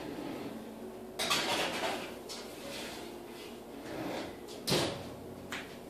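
An oven door shuts after a tray of bacon rose strips goes in, with a couple of solid thuds and clunks against the low hum of a kitchen.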